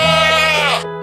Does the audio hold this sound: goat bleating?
yes